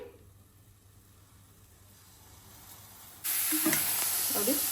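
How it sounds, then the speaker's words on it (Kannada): Water left on a freshly washed pan starts to sizzle and hiss on the stove as it evaporates, faint at first, then jumping to a loud, close steady sizzle midway through. "ಪಾತ್ರೆ ವಾಶ್ ಮಾಡ್ಕೊಂಡಿದ್ದೀನಿ ಸ್ವಲ್ಪ ವಾಟರ್ ಕಂಟೆಂಟ್ ಇದೆ ಸೊ ಅದು ಡ್ರೈ ಆಗಲಿ"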